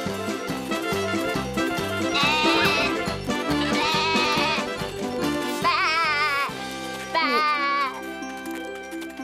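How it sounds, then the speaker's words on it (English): Cartoon goats bleat in a series of wavering, quavering calls over bouncy background music, several bleats following one another in a row. "Hello, my goats. Eat your fill what you can."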